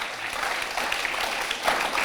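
A studio audience on a Hindi TV news debate applauds a guest, a dense, even burst of clapping that lasts the whole moment.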